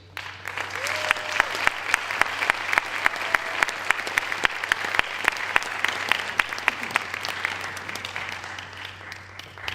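A round of applause from parents and students at a school awards night, steady dense clapping filling the hall for the whole stretch, loud and even with a low hum underneath.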